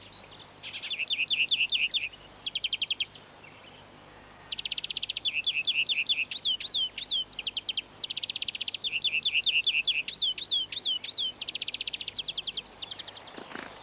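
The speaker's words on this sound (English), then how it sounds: "The greenfinch's song can also be heard sometimes during flight." A greenfinch sings in repeated bursts of bright, rapid trilling phrases, loud and close, separated by short pauses with no other sound.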